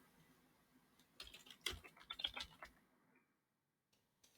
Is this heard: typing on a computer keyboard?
yes